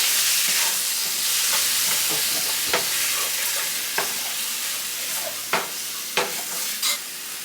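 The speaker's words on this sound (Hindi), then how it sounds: "केते समय फ्राए करवा।" Tomato with ginger-garlic paste and salt fries in a pan, a dense continuous sizzle close by, with a few sharp scrapes and taps of a utensil against the pan near the end.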